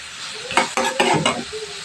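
Tomatoes sautéing in hot oil for a Filipino mussel dish cooked in butter, a loud close sizzle broken by several bursts of stirring, with no talking.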